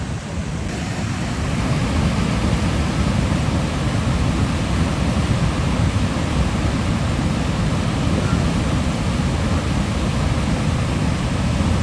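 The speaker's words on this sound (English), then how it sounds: "And here we are, Lake Malone Spillway." Floodwater pours over the Lake Malone spillway in western Kentucky during April flooding, a steady, loud, unbroken roar of rushing water that fills the whole scene with no voices.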